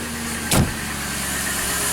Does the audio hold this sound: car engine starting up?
yes